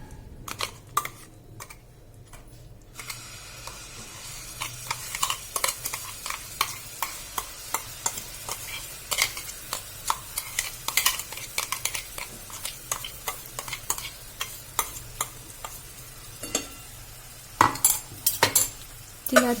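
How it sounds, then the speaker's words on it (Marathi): Garlic paste sautéing in hot oil for a chutney, giving a steady sizzle broken by frequent sharp clicks and scrapes of a spoon against the pan, close and moderately loud with no talking. "तिला छान आपण तेलात परतून घेणार आहोत, ज्यामुळे ती खूप दिवस टिकेल।"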